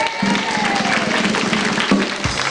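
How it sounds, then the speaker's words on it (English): Studio audience at a television game show cheering and applauding in a steady broad wash of clapping, fairly loud, with a host's voice briefly over it. "Any other English people in the audience? Give them a cheer."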